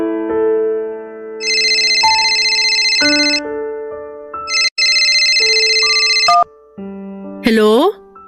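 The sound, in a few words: telephone ringing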